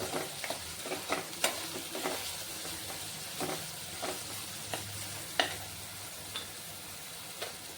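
Onions and potato for Maharashtrian kanda batata poha are sautéed with salt in a pan, with a soft, steady sizzle broken by a spoon's repeated scraping strokes, quiet and close, with no talking.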